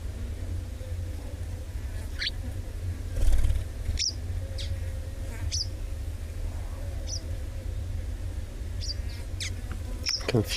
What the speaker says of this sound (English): If you hear a few excited bird calls there, I think they sound like wagtails to me.